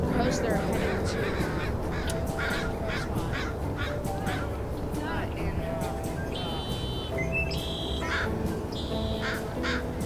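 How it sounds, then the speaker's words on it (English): Crows at Seattle's Union Bay Natural Area give a run of harsh, repeated caws over steady outdoor background noise, with people talking nearby. "Those are crows."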